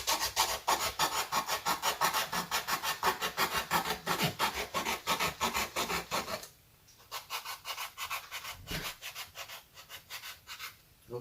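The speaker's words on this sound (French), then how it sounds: "Alors c'est une lime, je sais même pas d'où elle vient" A hand file rasps across a piece of wood for a homemade shabby-style letterbox, fast rhythmic back-and-forth strokes, close and steady, pausing briefly before resuming.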